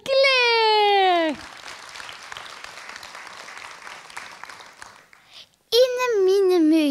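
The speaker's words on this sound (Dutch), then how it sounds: "Dames en heren, geef een groot applaus voor Claire." Audience applause for Claire bursts out between a sung or voiced tone and a returning voice, a steady wash of clapping lasting about four seconds before fading to silence.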